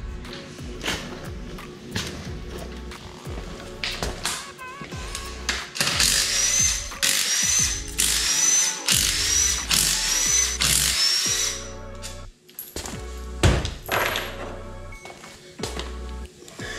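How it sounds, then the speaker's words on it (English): A 13 ratchet wrench works a bolt on a dogbox gearbox during gear installation, giving repeated close mechanical clicking and ratcheting bursts with metallic clatter in an irregular rhythm throughout. "You're gonna use a 13 ratchet wrench for the bolt that is under this arm"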